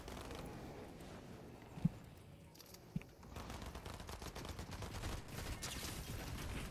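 Gunfire in the video game Fortnite: two sharp isolated shots early, then a rapid continuous stream of automatic fire with quieter clattering in the background.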